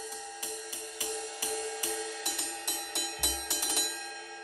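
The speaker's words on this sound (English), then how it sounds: "This is called the ride cymbal." A ride cymbal struck with a stick in a steady, even rhythm, roughly two hits per second, each stroke ringing bright and shimmering into the next with a sustained metallic wash.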